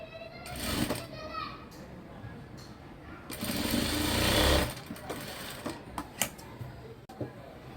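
A sewing machine stitches fabric in short whirring bursts, one long run in the middle, with pauses between as the cloth is adjusted and a voice speaks at times.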